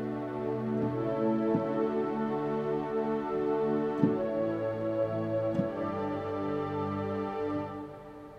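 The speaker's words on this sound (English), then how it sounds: "The next one is called a wide pad, and this has a little bit more energy to it" A wide analog synth pad played on a keyboard, with sustained layered chords that shift every second or so, each change marked by a soft attack. It plays steadily at moderate loudness with no voices.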